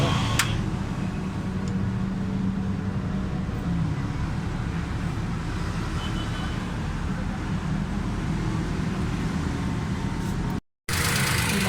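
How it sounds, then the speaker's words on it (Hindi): A Suzuki Cultus three-cylinder car engine runs steadily at idle, close by, with a low even rumble and a brief dropout near the end. "माशाल्लाह स्टार्ट है गाड़ी, साउंड बिल्कुल ठीक है गाड़ी।"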